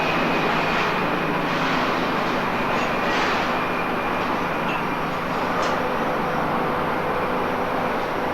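A loud, steady rumble of a train moving through Kuranda railway station, continuous broadband noise with faint high whines and no voices.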